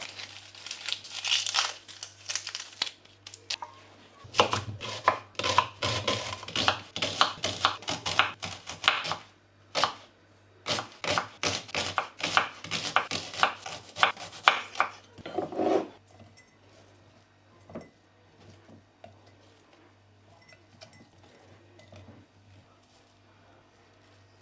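A knife chops red onions on a board in a home kitchen, giving a dense run of crisp, crunchy cuts up close for about fifteen seconds before the sound thins out into quieter handling.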